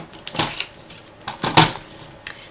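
Excess photo paper being trimmed for a scrapbook layout: a few short, crisp cutting snips and paper clicks spaced irregularly, close and clear with quiet gaps between.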